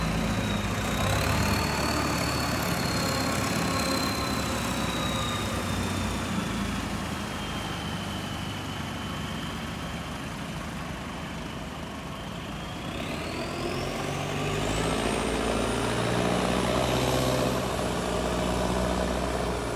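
A speedboat engine runs hard on a river, a steady loud drone with a high whining tone that dips and then climbs again as it holds speed for about twenty seconds.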